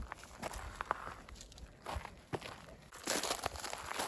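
Soft footsteps crunch and crinkle over dry leaves and twigs on a forest floor, a steady walking rhythm close by and fairly quiet.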